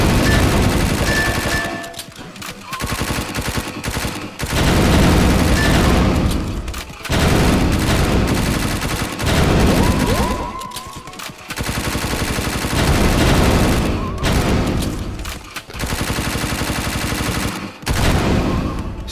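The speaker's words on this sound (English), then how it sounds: "Time to switch to machine gun, I think." Long bursts of rapid machine gun fire in the VR shooter game Pixel Gear, loud and close, separated by brief pauses between volleys.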